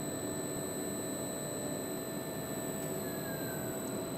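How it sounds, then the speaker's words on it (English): A motor driven by a Siemens Sinamics G120x VFD winds down, a steady high electrical whine and broadband hum holding level, with one whine tone gliding lower near the end as it slows. "right now the motor is ramping down and now it is stand still"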